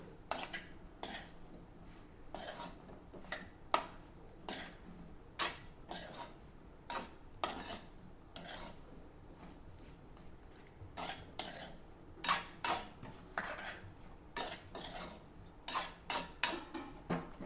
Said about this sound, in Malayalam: ഒരൽപ്പം വെളിച്ചെണ്ണ നമുക്കിത് നന്നായിട്ടൊന്ന് ഇളക്കി കൊടുക്കാം